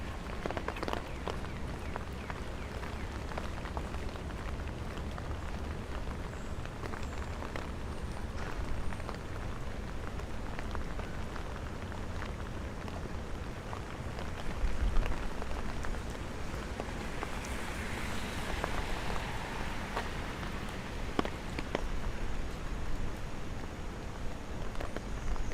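Steady rain falls across Riverside Park in Manhattan during Tropical Storm Henri, a dense continuous patter with scattered drips and faint bird calls woven through it.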